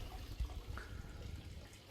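Water pouring into a patio water feature pond, a soft continuous trickle and splash, fairly faint, with low background rumble and no talk.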